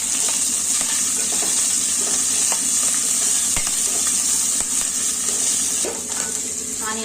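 Green chillies frying in a pan with onions for a masala chaat, a bright continuous hiss of hot oil close up, punctuated by spatula scrapes and clicks, with the sizzle easing slightly near the end.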